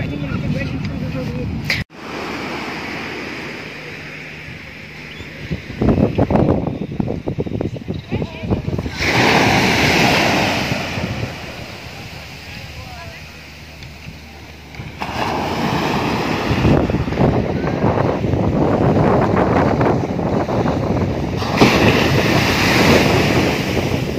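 Sea waves wash onto a beach in gusty wind, with surges of surf rising and falling and wind buffeting the microphone, while people talk nearby at times.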